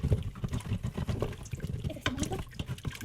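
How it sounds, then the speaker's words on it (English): A wooden spoon scrapes and stirs browned bits from the bottom of an Instant Pot of beef stock, giving a continuous close sloshing and bubbling liquid sound with soft scraping throughout. "what I'm doing with the wood spoon is just trying to get those chunks off the bottom here."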